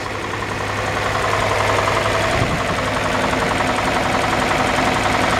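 A 1964 Ford F350 with a big six-cylinder engine and solid lifters idling, a loud, steady, close-up rumble with an even ticking, tapping clatter running through it.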